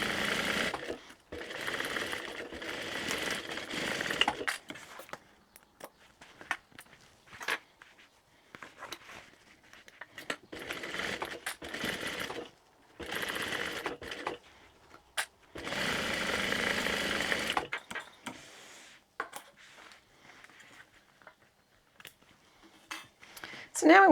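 A sewing machine topstitches a tote bag in bursts of rapid, close mechanical whirring, starting and stopping repeatedly with short pauses, one longer steady run near the end, and a voice talking between runs.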